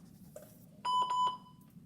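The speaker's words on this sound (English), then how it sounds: "We're just going to ignore that phone call right now." A phone rings with an incoming call during a color wheel painting session, a short burst of bright electronic tones lasting about half a second, fairly close over a quiet room.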